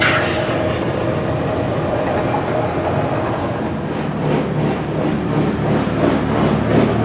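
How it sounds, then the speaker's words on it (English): Train running along tracks through a mountainside in Portugal, a steady loud rumble and rattle of rail cars, heard continuously at middle distance. "Got a great shot of the train going down the tracks and through the mountain."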